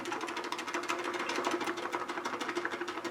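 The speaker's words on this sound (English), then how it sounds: "We're going to mix it in the scuttle so we can have some nice hot lather." Shaving brush whipping soap into hot lather inside a shaving scuttle, a steady close, rapid swishing and frothy churning that runs continuously without pause.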